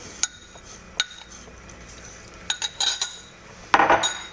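A spoon stirring spice mixture into a flour and oil roux broth in a pot, giving sparse metallic clinks and taps against the pot rim with a brief burst of scraping clatter near the end, no voices.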